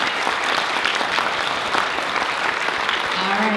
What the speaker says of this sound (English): Can we give them a round of applause for being up here looking so great?